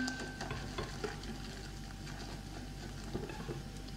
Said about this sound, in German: wir rühren in die kochende Milch den Grießbrei ein